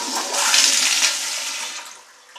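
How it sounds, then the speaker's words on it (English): A newly installed pressure-assisted toilet flushes with a loud, forceful whoosh of rushing water lasting about two seconds, then quickly tapers off. "This is what a pressure assisted toilet flush sounds like."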